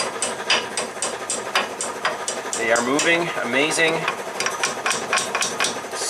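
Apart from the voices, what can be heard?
gently knocking out retaining pins on a '67 Triumph GT6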